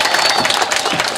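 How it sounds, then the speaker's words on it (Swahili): Applause and cheering from a crowd honouring women at a Women's Day celebration in Kilosa, a dense, steady wash of clapping lasting just over a second, loud and close. "Makofi mengi kwa wakina mama."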